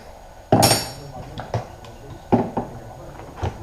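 Mechanic tightening a part on a Showa BPF motorcycle fork, giving a few sharp metallic clanks and taps spaced irregularly, close and fairly loud, with quieter clicks in between.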